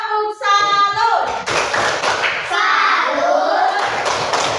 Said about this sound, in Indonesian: kita beri tepuk salut juga untuk Alvaro dan Alicia. Tepuk salut.